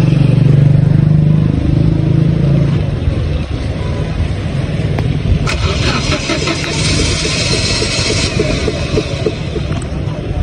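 A vehicle stalled in the rain is cranked over and over. A loud, rough, sputtering engine churns close by without catching cleanly, and a faint voice speaks underneath.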